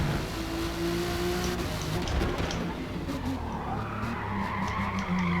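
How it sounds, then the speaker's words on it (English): Race car tyres in the Forza GT endurance racing game skid and scrub continuously under wheel spin, a loud sustained squeal over engine drone that wavers as the car slides. "Try and manage the wheel spin with a bit of half throttle"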